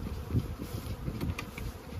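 Bees buzzing densely around beehives during a formic acid treatment outdoors, a close, continuous hum with individual insects swelling past, no voices.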